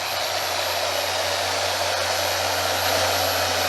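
A 3-inch Griot's Garage car polisher motor whirs steadily at close range, a constant high-pitched drone with no pauses.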